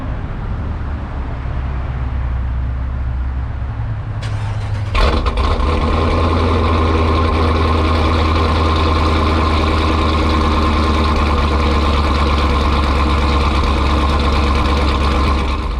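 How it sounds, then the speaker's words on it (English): A cammed 5.7-litre V8 truck engine with new HHP/BES cylinder heads is cold-started, cranking briefly around five seconds in, then settling into a loud, lumpy, choppy idle that rumbles steadily and close for the rest of the clip. "here is the first cold start with shake and bake with the new heads on"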